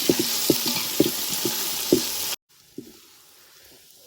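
Onion paste frying in a pan, a dense close sizzle broken by repeated scraping stirs about twice a second, then cutting abruptly to a much quieter, fainter sizzle.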